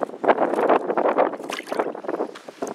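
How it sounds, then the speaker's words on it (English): Wind buffeting a microphone on a fishing boat, out pike and bass fishing, a rough, gusty rushing that comes in irregular bursts, close and fairly loud, with no talking. "That wind is up."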